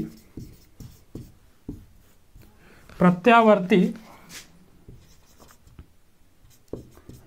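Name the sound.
writing on a board during a lesson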